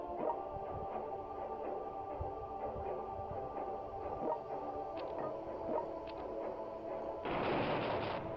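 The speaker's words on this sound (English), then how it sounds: "Finish him off with a little bit of strafing runs." Gunfire and explosions from strafing runs in the strategy game World Conqueror 3, a steady crackle of shots with a louder, denser burst of fire near the end.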